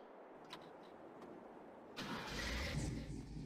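A pickup truck engine cranks and catches on a farm, the broadband roar starting abruptly midway after a quiet stretch with faint clicks, then running loud and steady close by.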